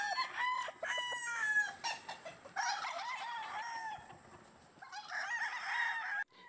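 Young gamefowl stags confined in a scratch pen crow repeatedly, their loud, close cock-a-doodle-doo calls overlapping with clucking across the whole stretch, with no talk.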